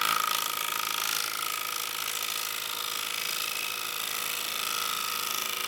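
A bevel-supported woodturning tool takes a cut in wood spinning on a lathe, giving a steady, close, hissing whir with a faint ringing tone that holds evenly throughout.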